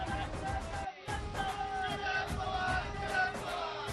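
Studio audience at a televised Hindi political debate in Nashik cheers and claps, a broad crowd roar with whoops that runs steadily throughout at moderate distance.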